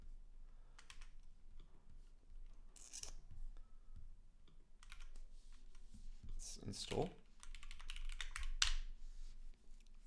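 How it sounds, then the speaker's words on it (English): Typing on a computer keyboard while installing software, with scattered bursts of clicky keystrokes and short pauses, close and fairly quiet, a voice speaking briefly over it. "Do you not like my keyboard"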